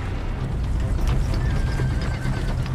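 A horse whinnies over steady clip-clopping hooves, a dense continuous rumble of hoof and movement noise with a thin neigh rising partway through.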